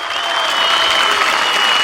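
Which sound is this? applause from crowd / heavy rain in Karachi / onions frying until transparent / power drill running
applause from crowd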